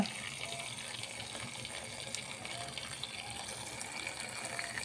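Water runs steadily into a cooking pot holding bamboo shoot, tomato and onion, a continuous soft gurgling pour with light splashing, fairly quiet and without speech.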